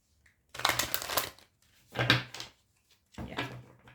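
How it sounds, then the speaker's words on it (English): Tarot cards shuffled in three separate bursts of rapid riffling and flicking, close and fairly quiet, with short pauses between and no talking. "I'm just shuffling your cards"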